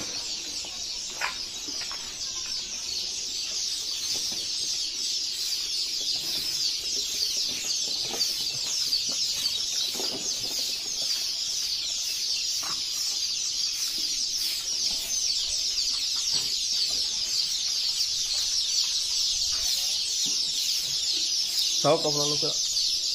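Local chicks at a poultry hatchery, a dense continuous chorus of high peeping and cheeping close by, with someone talking over it throughout.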